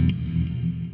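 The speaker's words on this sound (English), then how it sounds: "Add a little bit of reverb." An electric guitar run through the JST Toneforge Disruptor plugin with delay and reverb after the amp rings out as a single sustained chord that hangs and fades, with no other sound around it.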